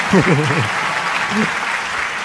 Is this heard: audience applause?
yes